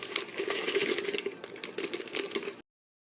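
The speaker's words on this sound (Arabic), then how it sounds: "طبعا اول شيء نكسر البسكوت الاوريو ونحط 12 حبة" Oreo biscuits being broken up for a layered dessert make a continuous crisp crackling and rattling, close and fairly busy, for about two and a half seconds before stopping abruptly.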